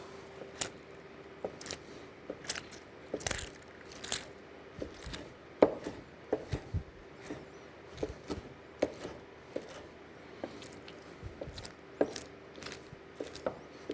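A knife chopping linguiça sausage into small pieces on a board, a steady series of sharp, close taps with brief pauses, quiet and without talk.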